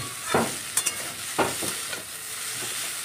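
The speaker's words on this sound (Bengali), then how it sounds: "এই সবজিটা ভালো করে ভেজে লবণ হলুদ দিয়ে ভাজি" Vegetables fry in a pan with a soft background sizzle, punctuated by a few close spatula scrapes and clinks against the pan, no voices.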